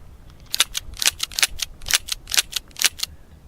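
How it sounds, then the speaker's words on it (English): A Charter Arms Bulldog .44 Special revolver dry fired repeatedly, sharp metallic clicks of the hammer falling, about a dozen in a quick, fairly even rhythm, close and crisp. "I'm gonna try dry firing this just to see if I have the same problems I just had."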